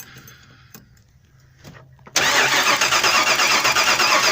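A 1988 Ford E-350 with a 7.5-litre V8 cranks over steadily after a quiet stretch of faint clicks, the starter churning loud and continuous with a fast even rhythm, up close and without ignition catching.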